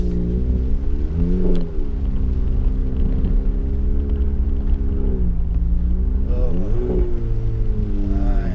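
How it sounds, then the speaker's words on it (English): A BAIC BRABUS BJ80 G800 SUV brakes hard on wet ground, a loud steady engine and road rumble with shifting tonal drone as the vehicle slows and slides, no talk. "So now we see what the car is doing when we brake, emergency brake. It's all wet."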